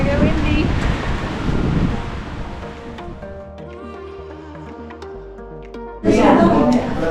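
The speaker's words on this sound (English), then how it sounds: "Oh, she's gonna get windy." Wind gusting across the microphone outdoors at Bran Castle in Romania, a steady rushing roar that eases midway and surges loudly near the end, with faint murmuring voices underneath.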